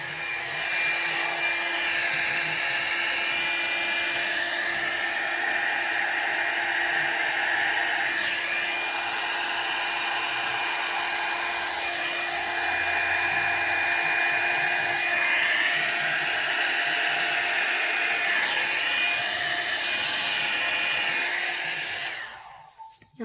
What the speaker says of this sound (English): I'm going to use my little Revlon hot air tool